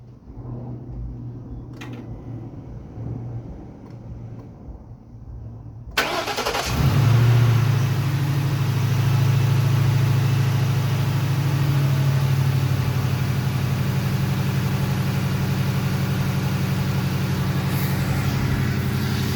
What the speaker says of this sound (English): So we'll do a startup here and we'll give her a listen.